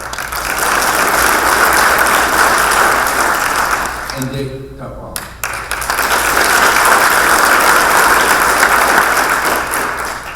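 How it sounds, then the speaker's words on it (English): Audience applause at a college of business Hall of Fame induction ceremony, loud and sustained, broken midway by a brief pause where a voice names an honoree before the clapping resumes. "He's not with us tonight, but worthy of applause."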